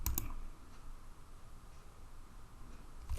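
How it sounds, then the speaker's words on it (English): Computer mouse clicks while navigating an online architecture course page: a couple of quick, sharp clicks at the start and another at the end, close and crisp over quiet room hiss. "I'm going to click on that."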